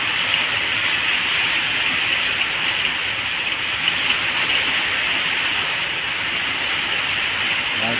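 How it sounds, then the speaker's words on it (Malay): Heavy rain pours steadily in Kuching, a dense, unbroken hiss of downpour with no pauses, loud and close, with no voices. "Tak sangka dia hujan, tiba-tiba hujan ya tuh. Terus lebat macam ini."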